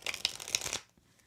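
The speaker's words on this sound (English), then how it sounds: "I'm going to shuffle this up and pull us all a card for the week" A Crystal Visions Tarot deck is riffled and shuffled by hand, a close, dense flutter of card edges for under a second, then it stops into near silence.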